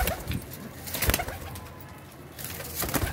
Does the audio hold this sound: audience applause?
no